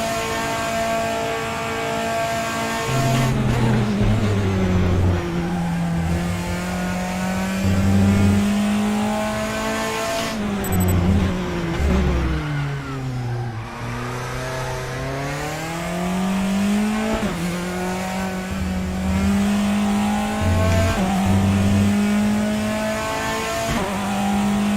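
Race car engine in the RaceRoom racing game, lapping Portimao in a BINCAR, drones continuously near and loud, its pitch climbing and dropping through gear changes and corners with a few sharp throttle blips.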